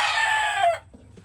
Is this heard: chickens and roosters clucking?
yes